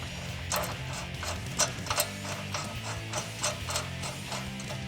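A hand ratchet turning to start a ball joint nut on the front suspension of a Ram 1500 pickup during a leveling kit install, giving a steady run of quiet, close clicks.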